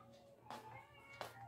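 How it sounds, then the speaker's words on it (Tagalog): A house cat indoors in a small living room meows twice, two short cries spaced about a second apart, close by and fairly quiet over a faint steady background hum. "Umiiyak yung pusa ko po."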